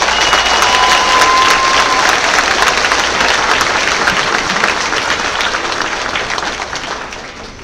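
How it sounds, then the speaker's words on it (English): A school audience applauds a fifth-grade class at a promotion ceremony, loud continuous clapping with a few cheers mixed in, holding steady and easing off slightly near the end. "one more round of applause for Mr."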